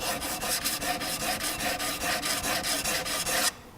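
Okatsune shears being sharpened on a 600 grit stone: a fast, even run of rasping strokes, about four per second, close and alone, stopping abruptly.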